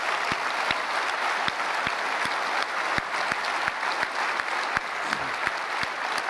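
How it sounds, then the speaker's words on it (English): Audience applause at a presentation on MIT's oil-well plugging technology, a sustained wash of many hands clapping with some louder individual claps standing out throughout. "So how about a big round of applause for that"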